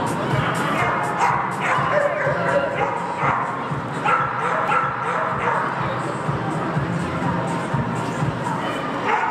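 Dogs barking and yipping in a crowded pet and animal expo hall, repeated short barks scattered over a busy murmur of people talking.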